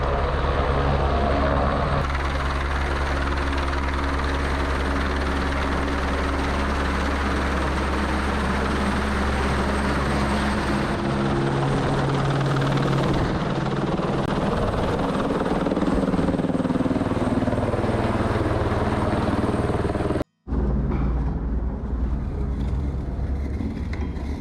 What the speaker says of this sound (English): they put like 5 helicopters and they have to dry them with the palm